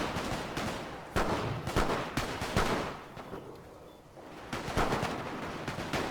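Artillery and gunfire rattle through a Great War mod of Company of Heroes, with irregular bursts and single cracks coming and going at moderate distance. One short quiet gap breaks the firing before it resumes.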